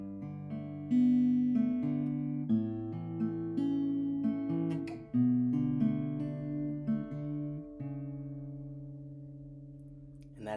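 An acoustic guitar plays a gentle intro of picked notes and ringing chords at moderate volume, ending with a final sustained chord.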